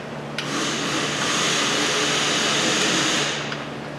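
An Astro 4980 impact wrench runs continuously for a few seconds, backing bolts out on a Subaru Outback during a rear wheel bearing repair. The loud, steady pneumatic whine starts and stops abruptly, with no voice over it.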